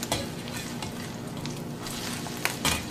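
An egg foo young patty frying in a pan, a close, steady sizzle with occasional sharper crackles and a light scrape of a spatula, no talking.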